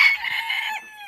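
A farm rooster crows briefly and loudly up close, a single rising then falling call among chickens.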